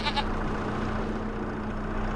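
Goats bleating in Farming Simulator 25, a few short calls near the start over a steady low in-game hum, then fading into continuous background ambience.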